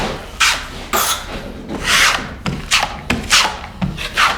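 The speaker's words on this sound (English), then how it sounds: "I take the same 12-inch trowel and I remove most of the joint compound." A 12-inch drywall trowel scrapes across wet joint compound on a drywall seam in a series of rasping strokes, each a second or so, with short pauses between, fairly close and loud.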